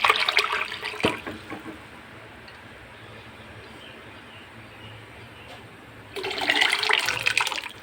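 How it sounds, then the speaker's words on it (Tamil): Horse gram water is poured into a pot of rasam, a splashy pour close by at the start, a quieter stretch, then a second heavier pour near the end. "இப்போ இந்த கொள்ளு தண்ணி ஊற்றிக்கலாம்"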